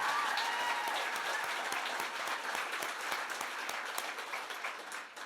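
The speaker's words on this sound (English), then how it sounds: "can we give him a big round of applause for helping out on this tour?" An audience applauds steadily at a book tour event for Jay Kristoff's Empire of the Dawn, a dense, even patter of many hands lasting several seconds and tapering slightly at the end, with no talk over it.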